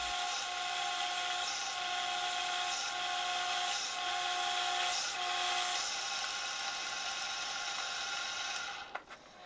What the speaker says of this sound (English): I used the 5/6" center drill to drill the blank face.